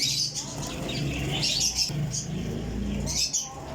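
Flying pigeons are handled in hand, giving bursts of wing flapping and short chirps with rustling close by, while someone talks quietly underneath.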